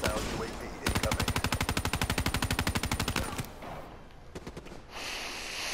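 Rapid automatic gunfire from the video game Call of Duty: Black Ops III, a loud sustained burst of evenly spaced shots lasting over two seconds, followed by a few scattered single shots against game ambience.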